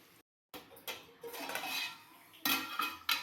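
Broad beans frying in a pan for a peanut-spice curry, with scattered metallic scraping and clinks of a spoon stirring against the pan in bursts, close and fairly quiet.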